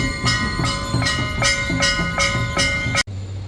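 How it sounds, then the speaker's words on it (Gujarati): A train rolls past near the Mahakali temple in Haridwar, its wheels clattering over rail joints in a steady, loud rhythm with a ringing metallic tone, cutting off abruptly near the end. "આ સુંદર મજાની રેલગાડી અહીંયાથી પસાર થઈ રહી છે"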